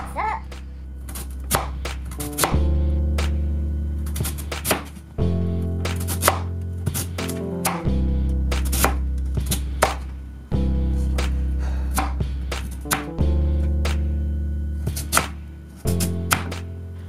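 A knife slices sweet potatoes into quarter-inch rounds on a cutting board, the blade striking the board in steady, sharp chops grouped into repeated runs, close and loud, with no talking.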